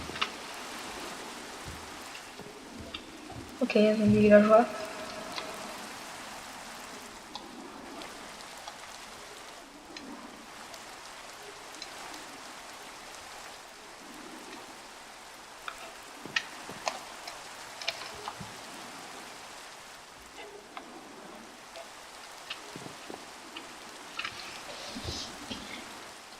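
Steady rain pattering in a video game, a soft, even hiss with scattered ticking drops that runs the whole time, with a brief louder burst near the start as a voice speaks.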